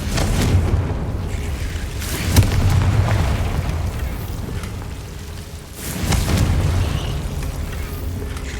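Confringo fire spell blasts in Hogwarts Legacy, a few loud booming bursts around the two- and six-second marks, each rolling into a long crackling, rumbling tail over steady low-end ambience.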